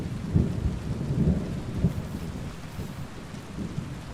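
Thunderstorm in the medieval role-playing game Kingdom Come: Deliverance 2: deep rolling thunder rumbles under a steady hiss of falling rain, fairly loud and continuous, with no voices.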